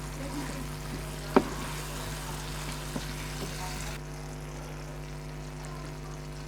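Whole cumin seeds crushed by hand into hot oil for sarson ka saag give a faint, steady sizzle with a single sharp click near the start.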